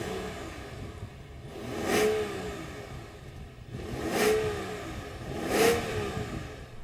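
A BMW 760Li V12 engine revs up three times in short bursts, each rising and falling, close by with a steady idle between.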